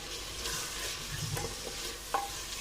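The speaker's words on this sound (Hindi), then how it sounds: "ये देखिए माशाल्लाह प्याज थोड़ा सा भून रहा है।" Onions frying in a clay pot with a steady soft sizzle and occasional scraping stirs, fairly quiet and close, without talk.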